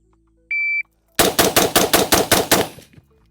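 A semi-automatic shotgun fires eight rounds in quick succession, sharp loud blasts at an even rapid rhythm, preceded by a short electronic start beep.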